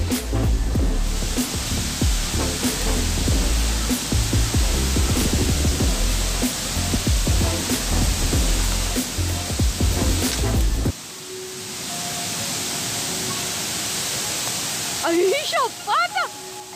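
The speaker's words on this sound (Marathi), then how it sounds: "कसलो भारी आहे हा धबधबा." A waterfall at Mama Waterfalls rushes in a continuous loud wash of water noise, with heavy handling or wind bumps early on and a voice speaking near the end.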